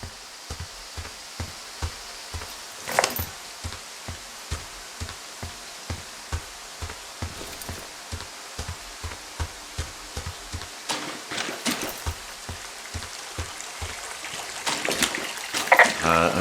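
Creek water at Cottonwood Creek in the video game Firewatch flows with a steady, soft wash. A regular beat of footsteps runs over it, growing busier toward the end.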